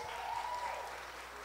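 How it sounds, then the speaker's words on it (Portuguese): A church congregation applauding, a steady wash of clapping from many hands filling a short moment, with a faint voice beneath. "Eu nem falei o porém da história, vocês já estão aplaudindo."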